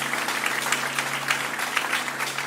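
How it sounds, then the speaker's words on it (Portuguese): Church congregation clapping in praise at an evening service, a dense, steady burst of applause from many hands filling the room, fairly close and continuous throughout, with a faint low hum underneath. "As palmas louvam ao Senhor."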